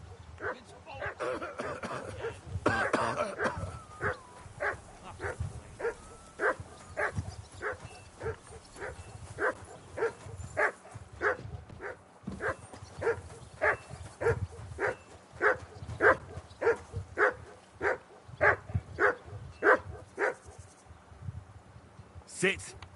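A dog barking in the medieval video game Kingdom Come: Deliverance 2, giving a long run of steady, evenly spaced barks at moderate distance, with a brief burst of other noise near the start.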